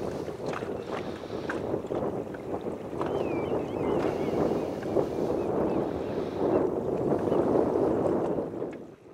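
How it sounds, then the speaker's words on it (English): A 6-horsepower outboard motor drives a small boat on the water, a steady broadband drone with wind buffeting throughout, continuous and close, with no talk. "letting my 6-horsepower outboard do the work their arms would have to do"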